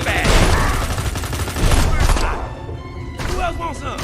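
Rapid gunfire bursts from the alien shooter game Destroy All Humans 2, loud and close, with a dense fusillade that eases toward the end.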